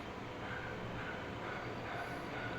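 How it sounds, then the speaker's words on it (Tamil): Mustard seeds popping in hot oil for Tamil tomato rasam, a dense, steady crackle and sizzle filling the pan with a continuous noisy hiss and no voices. "கடுகு பாருங்கள் பொரிய ஆரம்பிச்சிச்சு. நல்லாவே பொரிய ஆரம்பிச்சு."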